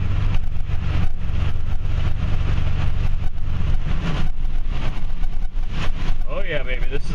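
A car drives steadily on a wet road in the rain during flooding, with constant loud road and engine rumble from inside the vehicle and someone talking over it.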